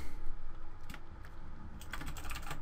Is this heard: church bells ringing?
no